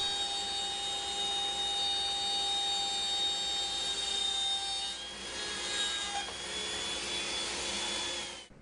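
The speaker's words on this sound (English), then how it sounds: "switching from the 3/4 inch bit to a 1/4 inch bit, I'm going to cut again all the way around, but this time all the way through" A router fitted with a 1/4 inch bit cuts all the way through wood for a router lift insert, a loud, steady high whine with a grinding cutting edge that shifts in pitch near the end.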